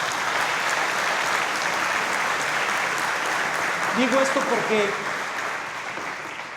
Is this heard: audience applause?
yes